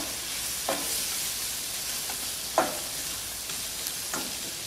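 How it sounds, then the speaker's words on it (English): Onion and garlic sautéing in butter in a hot pan, a soft steady sizzle with a few sharp stirring scrapes spaced about two seconds apart, close and alone. "Butter, of course. Hot pan. Start off with our onion and garlic."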